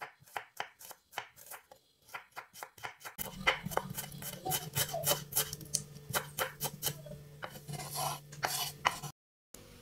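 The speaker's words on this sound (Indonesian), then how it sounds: "Iris bawang merahnya." A knife slicing shallots on a cutting board, starting as a brisk run of crisp, evenly spaced taps, then continuing faster over a low background hum, close and fairly quiet.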